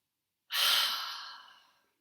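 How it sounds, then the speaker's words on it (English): After a moment of silence, a single deep breath is released in a long, airy exhale close to the microphone, strong at first and tapering away gradually. "we take nice deep breaths"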